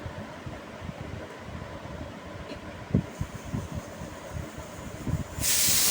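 A pressure cooker on a stove vents steam with a steady hiss, then a louder burst of whistling release rises near the end.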